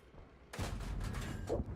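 A tank gun fires once in World of Tanks, a broad, loud blast from a light tank followed by a rumbling tail that fills the rest of the short moment.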